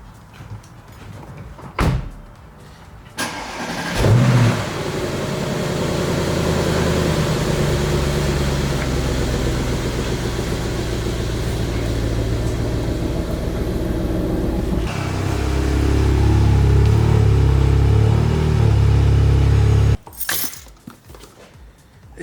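A VW Golf R MK7.5 driven in with a steady engine drone and low rumble that swells and holds for about fifteen seconds, then cuts off, with door-like clunks before and after.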